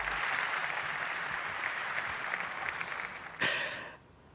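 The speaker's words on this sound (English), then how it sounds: "give him a round of applause, please, ladies and gentlemen" Ladies and gentlemen at a Porsche 75th-anniversary sports car presentation show applaud racing driver Timo Bennett with a steady, even round of clapping, which swells in a brief burst near the end and then quickly fades.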